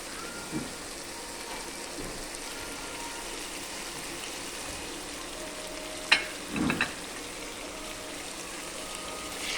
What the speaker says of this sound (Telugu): నూనె మంచిగా వేడెక్కినాక టమాటాలు వేస్తా